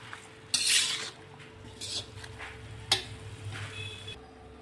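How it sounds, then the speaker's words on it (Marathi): Mixed vegetable dish of 21 vegetables being stirred in a pan, with a few sharp metal scrapes and clinks of a spoon against the pan over a low background hum. "आता एकदा परतून घेऊया आणि यावर झाकण ठेवून 5 ते 10 मिनिटं आपण होऊ देऊया"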